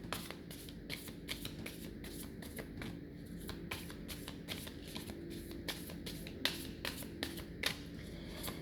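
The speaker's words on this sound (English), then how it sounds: "So first I'm clearing the cards." Oracle cards being shuffled by hand, a steady run of soft papery riffles and taps, close and quiet with no talking.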